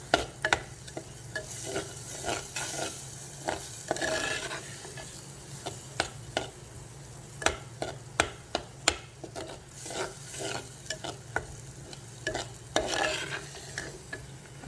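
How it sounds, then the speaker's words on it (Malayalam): Spice paste stirred and fried in hot oil in a pan, a steady sizzle broken by repeated sharp scraping strokes of the spoon against the pan, close and with no voices. "ഇത് പേസ്റ്റ് ഇട്ടിട്ട് അതിൻ്റെ പച്ചമണം മാറുന്നവരെ നല്ലതുപോലെ ഇളക്കും"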